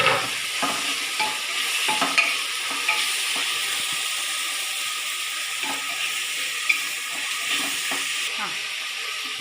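Onions, tomato and green chillies sautéing for a beef curry, a steady hiss of frying with repeated scraping and tapping from a stirring spoon, moderately loud and without talk.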